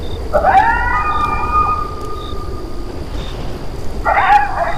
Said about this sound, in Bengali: তখনই দূরে কোথাও একটা কুকুর কান্নার মতো করে ডেকে উঠল